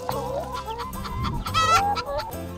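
Chickens clucking on a potato farm, several birds close by giving busy, overlapping clucks and a louder squawk, with a little background noise.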